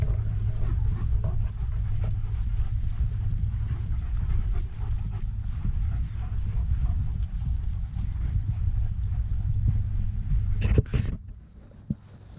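Several dogs pant quickly and steadily close by for a long stretch, over a low background rumble with faint clicks and shuffles. It ends in a brief loud clatter and then near quiet.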